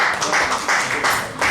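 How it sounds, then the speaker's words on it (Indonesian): A church congregation applauds at a worship service, a steady wash of many hands clapping together close by, continuous and fairly loud across the short moment. "Berikan tepuk tangan buat Allah kita."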